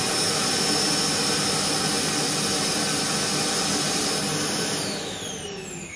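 A Roomba J6 Plus robot vacuum runs with a loud, steady whir and high-pitched whine, droning on without pause, easing slightly quieter near the end.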